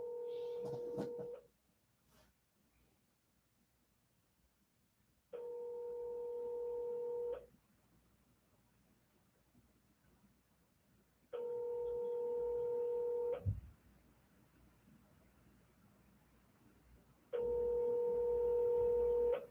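A phone call rings out unanswered, with three evenly spaced two-second ring tones separated by quiet gaps and a brief voice near the start.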